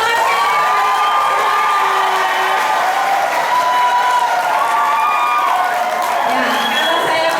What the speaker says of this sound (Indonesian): Boleh saya dengar dulu tepuk tangan semangatnya.